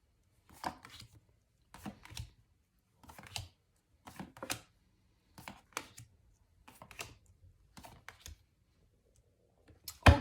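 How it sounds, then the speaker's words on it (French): Tarot cards are drawn and laid out one by one, a series of soft, separate slaps and shuffling flicks at a roughly even pace, quiet and close with no talking. "on va donc faire un tirage en 9 cartes"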